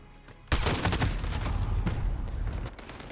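Rapid, loud bursts of automatic gunfire in the video game Call of Duty: Modern Warfare, a sustained fusillade after a sudden onset, close and dense, tapering off near the end.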